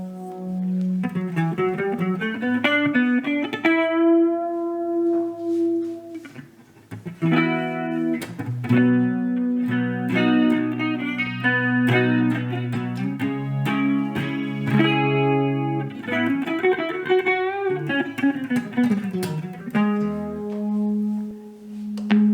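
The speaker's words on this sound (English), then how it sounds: "With the chorus, you get the original signal and then the multiple same signals copied together" Clean electric guitar chords and melodic lines through a Marshall MG15FX amp's clean channel with a shimmering, doubled chorus effect, played alone with sustained notes and short pauses.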